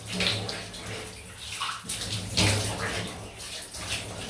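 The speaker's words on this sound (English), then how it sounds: "Rinse, big tap, stand by for the hot noise." A big tap runs hot water to rinse a face after shaving with a razor, a steady continuous gush close by with no talk over it.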